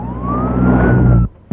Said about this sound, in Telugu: అది పోలీస్ వ్యాన్ కదరా, అంబులెన్స్